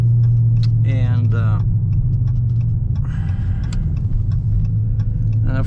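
A modified 5.7-litre Dodge Charger V8 idles close by in a steady, deep rumble, while a person talks over it in bursts.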